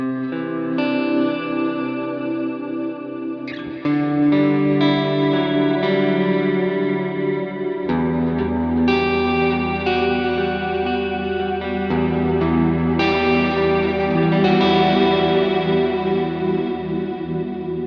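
Electric guitar played through the Ganymede reverb on a Line 6 HX Stomp with delay added, giving sustained, shimmering chords and arpeggios that wash together in long echoing tails, loud and continuous throughout.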